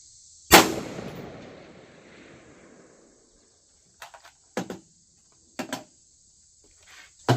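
A rifle fitted with a Firefield Rapidstrike 1-6x24 LPVO scope fires one loud, sharp close shot that rings out and fades outdoors, then fainter handling clicks and metallic clacks follow, with no talking over a steady insect-like buzz.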